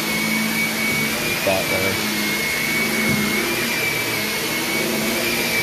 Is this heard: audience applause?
no